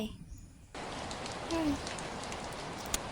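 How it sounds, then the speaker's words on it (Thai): Rain begins falling suddenly after a brief quiet moment, quickly becoming a steady hiss of drops with a few sharper patters. "ฝนตกซะได้"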